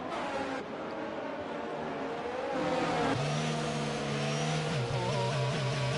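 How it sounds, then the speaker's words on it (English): A safety car driving around the Azerbaijan Grand Prix circuit in a racing video game: a steady, close engine drone whose pitch climbs and shifts with gear changes, with no talk. "Safety car, there you go"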